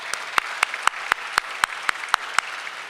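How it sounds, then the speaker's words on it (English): A single person claps about ten times in a steady, evenly spaced rhythm at a gallery opening ceremony. Each clap is crisp and distinct, with quiet gaps in between. "Please, a round of applause."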